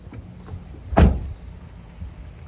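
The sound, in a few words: RV door being shut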